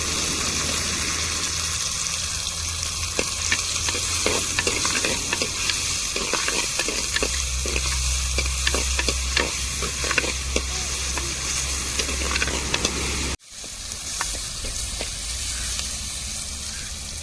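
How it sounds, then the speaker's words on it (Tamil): Garlic and onion sizzle steadily in a pan over softened tomatoes for a fish curry cooked outdoors near the beach, with a spoon stirring and scraping throughout before a brief cut and the frying resumes. "இப்போ பூண்டு வெங்காயத்தையும் சேர்த்துக்கிறோம்"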